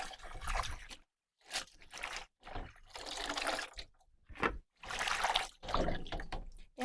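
Yanang leaves are swished and rinsed in water, giving bursts of splashing and sloshing separated by short silences, close by and fairly quiet, with a few soft knocks against the container.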